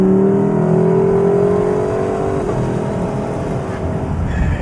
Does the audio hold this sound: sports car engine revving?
yes